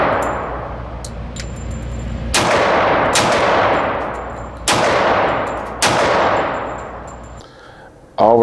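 Four loud, close gunshots from a Cosaint Arms 10mm 1911 pistol, fired at an uneven pace, each sharp crack trailing off into a long ringing decay before the next.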